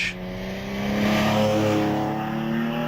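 An early 1970s Porsche without flared wheel arches races up the Prescott hill climb, its engine a loud, steady, rising roar as the car accelerates past, holding strong and close throughout with no talk.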